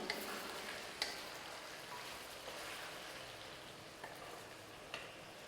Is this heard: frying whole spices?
yes